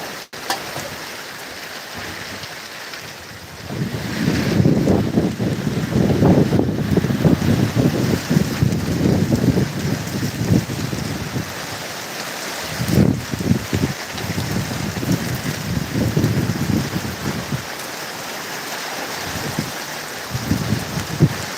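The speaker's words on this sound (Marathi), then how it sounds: "सोसाट्याचा वारा सुटला आहे आणि पावसानं हजेरी लावलेली आहे" Strong gusty wind of the first monsoon rain in the Sahyadri hills buffets the microphone in heavy rumbling bursts over steady rain, rising and easing repeatedly with no one speaking.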